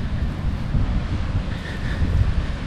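Ocean waves at a Florida beach wash in with a low, rolling rumble, heavily mixed with wind buffeting the microphone and a faint higher hiss of surf.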